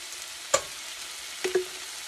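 Garlic, three or four cloves, sizzles in a soup pot with a steady, close frying hiss, broken by a couple of quick knocks from stirring.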